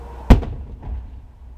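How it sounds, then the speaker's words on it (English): A single sharp firework bang during a 4th of July celebration, loud and close, followed by a fainter softer thud about half a second later, then quiet outdoor background. "You like those fireworks, bud?"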